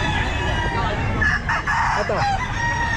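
Gamefowl roosters, white hatch and gray hatch birds at a pet market, crow loudly and cluck close by while someone speaks briefly over them.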